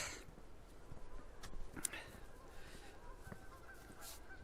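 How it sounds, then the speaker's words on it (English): Distant Canada geese honk faintly and intermittently over a steady outdoor background rumble near a car park. "Some of the microphones picking up the geese."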